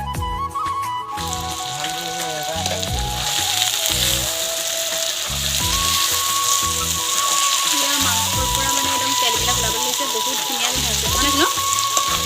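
Meat for an Assamese boiled-meat curry sizzles loudly and continuously in a pan, its fat rendering out, with a dense crackling hiss like heavy rain; faint voice or background tones sit underneath.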